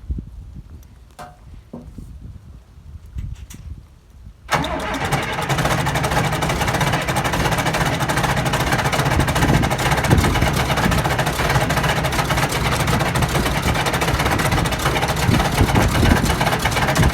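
A John Deere 3130 tractor is cold-started on a 36-degree day. Near silence with faint clicks gives way to the diesel engine catching abruptly, then running loud and steady with a rough, continuous rumble.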